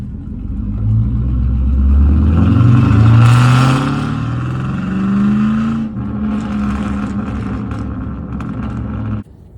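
A loud Chevrolet Silverado pickup with an equal-length exhaust revs hard from a standstill leaving a gas station, its throaty exhaust rising in pitch from first into second gear, then easing and cutting off abruptly.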